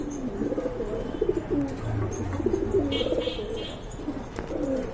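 Racing pigeons cooing in a loft, with soft, repeated throaty coos rising and falling over a steady noisy background, close and fairly loud.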